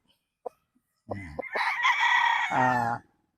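A White Kelso street-bred bullstag rooster, 22 months old, gives a single loud close crow after a few soft clucks, heard alone without talking.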